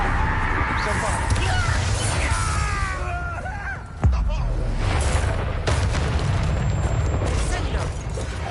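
A Bombarda spell explosion in the video game Hogwarts Legacy lands as a sudden loud boom midway through a dense, rumbling stream of combat effects, with a person talking over it.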